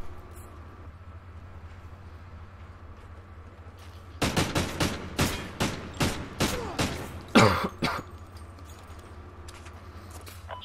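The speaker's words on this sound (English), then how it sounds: "all you hear is coughing constantly" A run of about eight sharp, closely spaced coughs, fairly close and loud, with a harsher throat-clearing burst near the end, over a quiet background hum.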